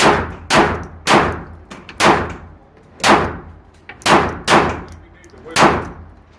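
Eight sharp, loud gunshots from a handgun firing Maxxtech ammunition ring out at uneven intervals of roughly half a second to a second, each with a brief echoing tail.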